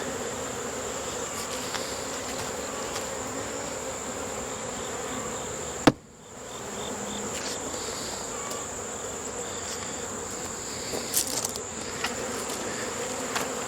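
A swarm of honeybees, stirred up under a screened bottom board, gives a continuous steady hum at close range, broken once by a short sharp knock.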